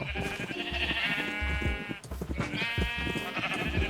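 Sheep bleat repeatedly in the Minecraft survival farm game, two long wavering calls close and loud, one after the other with no talking.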